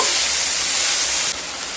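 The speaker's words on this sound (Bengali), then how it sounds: "পেঁয়াজ দিয়ে হালকা ভেজে নেব।" Chopped onions frying lightly in oil give a dense, steady sizzle that drops slightly in level near the end, with no talking.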